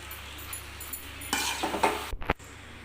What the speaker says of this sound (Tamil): இப்போ வந்து நல்லா கிரேவி வெந்துருச்சு இப்போ வந்து சாப்பாடு போட்டு கிளறிக்கலாம்